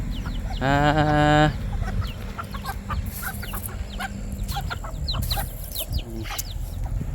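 Chickens on a Thai farm cluck and call, with one loud drawn-out crow-like squawk near the start and scattered nearby clucks afterward over outdoor background noise.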